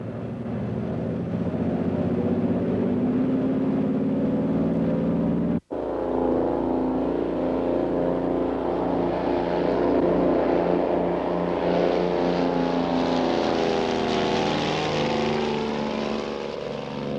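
A Twin Bonanza twin-engine airplane taking off from Los Angeles runway 25 left, its engines a loud, steady droning roar with layered propeller hum that holds throughout, broken by one brief instant of silence.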